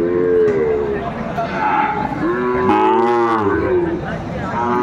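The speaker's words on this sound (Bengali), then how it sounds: "শাহিওয়ালের ষাঁড় বাচ্চা আমরা দেখছিলাম। আজকের বাজারের গরুগুলো কোয়ালিটি সম্পন্ন।" Sahiwal bull calves at the Aftabganj cattle market give loud, drawn-out moos, with several lowing calls overlapping against the noisy market crowd and background voices.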